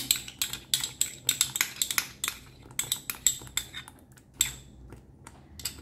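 A spoon stirring thick cream into a paneer mixture in a metal pot, a quick series of bright metallic clinks and scrapes in irregular bursts, close and clear, with no talking.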